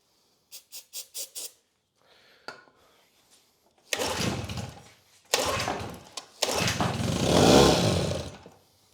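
An old Evinrude outboard motor tries to start: a few quick pull-cord clicks, then several loud bursts of the engine firing and sputtering briefly before dying, with pauses between attempts.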